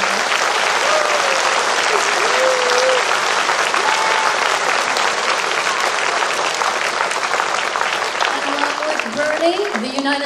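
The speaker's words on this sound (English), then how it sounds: "we would like to recognize and applaud all of our veterans from the United States Navy" A school gymnasium crowd at a Veterans Day assembly applauds United States Navy veterans, with loud, dense, sustained clapping that carries on for about ten seconds before easing as a voice begins to speak at the end.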